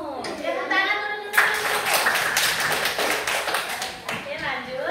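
A group claps together in a classroom or training session, dense tapping hand claps running for several seconds at moderate loudness, with a voice speaking briefly at the start and end.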